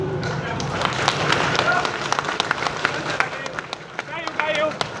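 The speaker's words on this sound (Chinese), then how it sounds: "咱用掌声欢迎您进场" Crowd clapping and cheering to welcome arriving guests at an outdoor political rally at a temple in Fengyuan, Taichung, a continuous dense wash of hands with scattered louder claps and voices mixed in.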